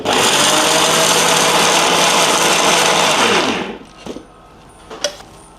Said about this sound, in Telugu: ఫస్ట్ మరమరాలని గ్రైండ్ చేద్దాం.